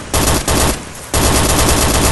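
Enemy machine gun fire in a combat video game: loud, close, rapid bursts of automatic shots, broken by a short pause before another sustained burst.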